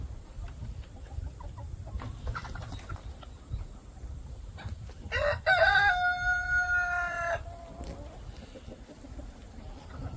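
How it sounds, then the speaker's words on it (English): Chickens, including a Rhode Island Red hen, cluck and squawk in short bursts around mid-clip over low background rumble, with a brief loud cackling call standing out. "Put the chicken down, please."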